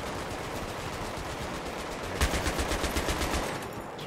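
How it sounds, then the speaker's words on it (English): Light machine gun in Battlefield 3 campaign combat rattles off a rapid burst of about a dozen shots in the second half, loud over constant battlefield noise, with no talking. "Got the light machine gun. It's a 50."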